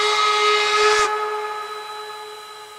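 A K&L steam locomotive in Trainz TRS2019 sounds its whistle, a loud chord with a breathy steam hiss that cuts off after about a second, leaving the pure tones to ring and fade.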